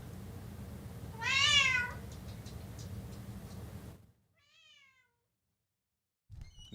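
A cat howls and screeches in a rising, wavering cry near the start, followed by a fainter second yowl after a pause, over a low background hum.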